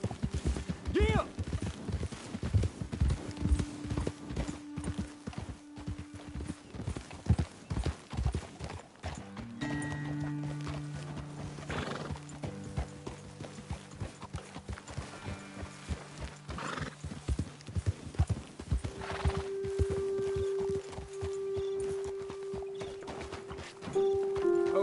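Horses walk over ground in the Red Dead Redemption 2 game world with steady clip-clop hoofbeats. Occasional whinnies and snorts come up close, and brief tonal game sounds join in partway through.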